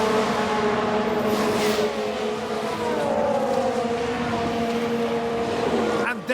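A Ferrari Formula 1 car engine in the racing game F1 Manager 22, set in 1992, a loud sustained high whine with shifting pitch and other cars droning in the background, ending in an abrupt cut.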